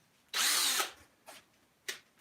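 A power drill spins up with a Harbor Freight 1/8 inch bit, whining loudly for about half a second before winding down, followed by a few fainter short bursts of drilling.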